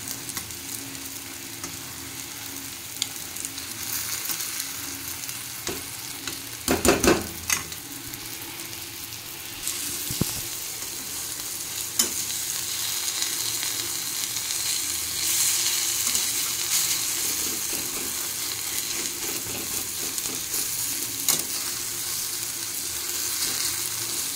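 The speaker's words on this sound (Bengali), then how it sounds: "ওই জন্য ডিম ভেজে দিচ্ছি।" Eggs fry in a pan with tomato, onion and green chilli, giving off a steady close hiss with occasional crackles and a few utensil scrapes, continuous throughout.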